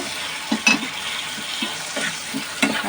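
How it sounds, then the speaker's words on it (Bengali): Carrots, green beans and flattened rice fry in a pan for a spiced flattened-rice pilaf, giving a steady soft sizzle broken by a few stirring scrapes and clinks. "5 মিনিটের মতো একটু ভেজে নেব।"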